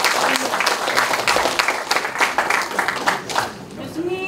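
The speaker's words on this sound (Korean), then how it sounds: "네, 박수 한번 주십시오." Audience at a literary award ceremony for new poets and writers clapping steadily, a close, dense round of applause with individual claps audible, and a voice briefly rising near the end.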